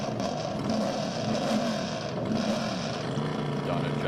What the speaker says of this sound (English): That does sound like a NASCAR because it has the heart of a NASCAR. Car number 281, sporting a Roush Yates NASCAR engine.